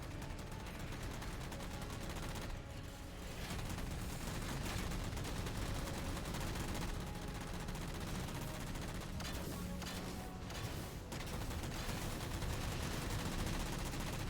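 Dense, continuous gunfire from the Halo 4 video game, overlapping shots and automatic bursts filling the scene loudly with no pause.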